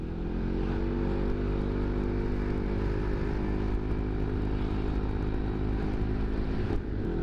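A bored-up motorcycle being ridden, its engine droning steadily and loudly close by with a constant low rumble and no noticeable revving changes.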